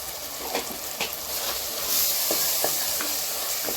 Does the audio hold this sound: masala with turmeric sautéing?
yes